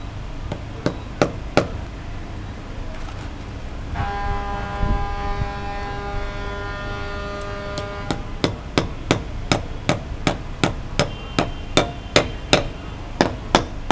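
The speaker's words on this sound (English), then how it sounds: "I will nail up to six concrete nails inside it" Concrete nails driven with a hammer while a satellite dish mount is fixed to the ground, sharp loud metallic strikes in a steady rhythm, roughly twenty blows, with a brief humming tone in the middle.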